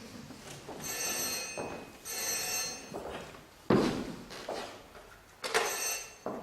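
A telephone rings indoors in repeated bursts with pauses between them, loud and close, mixed with a few thuds and knocks in the room, and no one speaks.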